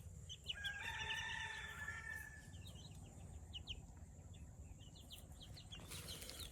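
Pet chickens crowing and clucking outdoors by the sea in Anda, Bohol, a rooster's crow rising early over a low steady background hum, followed by scattered short clucks and chirps.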